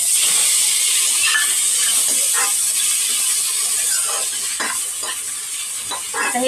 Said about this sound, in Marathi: त्याच्यामध्ये मी टोमॅटो पण परतून घेणार आहे.